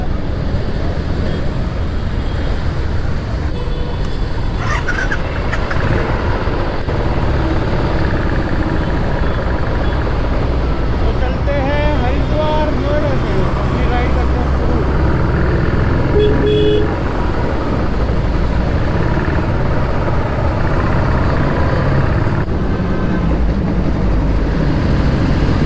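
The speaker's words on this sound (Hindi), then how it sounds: "चलिए अपनी बाइक लेके चलते हैं" A Hero Xpulse motorcycle rides out toward the Delhi–Meerut Expressway, heard as a loud, continuous rush of engine and wind roar with brief horn toots and a faint voice now and then.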